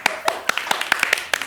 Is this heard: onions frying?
no